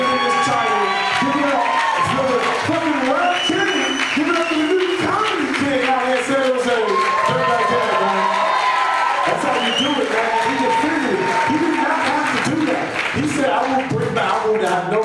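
A stand-up comedy crowd at the San Jose Improv roars with sustained cheering, shouting and clapping, many voices yelling over one another throughout.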